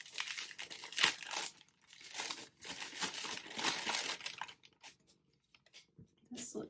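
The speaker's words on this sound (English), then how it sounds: "There's gonna be more crinkling." A small plastic baggie crinkles close and quietly in rapid, uneven bursts of rustling, stopping briefly between handlings and ending in a few scattered crackles.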